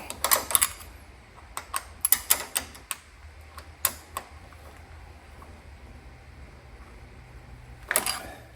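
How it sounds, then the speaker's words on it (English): A wrench clicks and ratchets while tightening nuts on a Briggs V-twin engine from a John Deere LA120 lawn tractor, with short bursts of sharp metallic ticks, then a quiet pause and a final cluster. "I'm going to tighten them up here."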